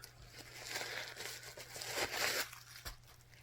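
A backpack zipper with an oversized pull being pulled open, a raspy broadband zip that rises and falls over a few seconds with a short second pull near the end.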